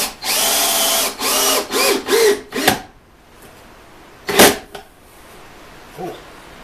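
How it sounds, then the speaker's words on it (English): A power drill's clutch ratcheting in a few loud, rapid clicking bursts close by, then a pause, one more short burst and a faint tail as the tool stops. "That's the clutch on the drill."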